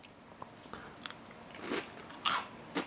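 Chips Ahoy cereal in milk being chewed, giving soft, close crunches and a few sharper bites that build toward the end of a quiet stretch.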